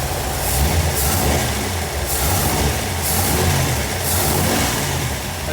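A carbureted engine revs steadily and loudly as the carburetor takes the throttle, its roar swelling and easing in a regular rhythm of repeated surges with no talking.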